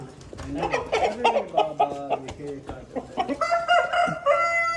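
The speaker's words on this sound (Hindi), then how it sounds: "ये देखो भाई देसी मुर्गा।" A desi rooster crows and clucks close by in a village, with people talking over and around it.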